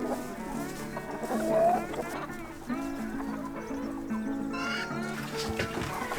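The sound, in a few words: chickens clucking at feeding time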